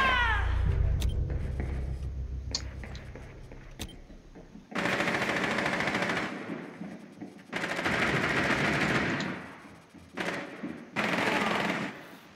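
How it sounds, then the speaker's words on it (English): Machine gun fire in the shooter game Rainbow Six Siege: loud, sustained automatic bursts lasting a few seconds each, separated by short pauses, with a few single shots early on. "Right through my machine gun fire"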